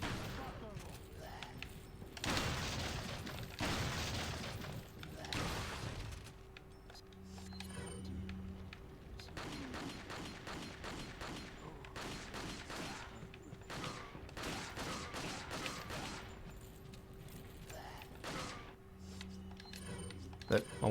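Shotgun and pistol fire in Resident Evil 4 ring out as repeated sharp bursts in clusters, with a steady hum underneath and a voice talking over parts of the shooting.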